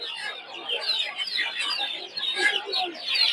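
Tiger chicken chicks crowded together at a poultry market keep up a busy chorus of high cheeps and peeps, dense and continuous at close range.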